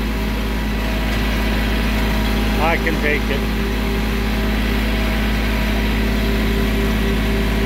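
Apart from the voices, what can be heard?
tractor engine running on a driveway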